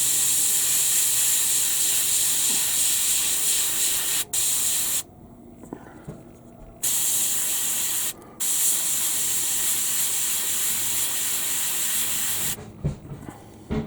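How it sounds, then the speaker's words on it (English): An airbrush sprays paint onto a miniature figure in a steady close hiss, the trigger pulled and released in bursts with short quiet gaps between sprays. "I'm only pulling back on the airbrush trigger a tiny amount"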